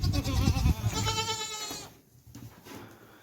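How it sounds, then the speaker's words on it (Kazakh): Pregnant goats in a pen at feeding time bleat loudly and close up, with several overlapping wavering cries followed by a quieter stretch of pen noise. "Мына қораға малдарды жемдеп жатырмыз."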